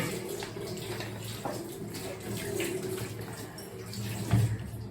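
Water runs steadily from a tap during washing, a continuous splashing hiss at moderate level with a brief louder splash near the end and no speech.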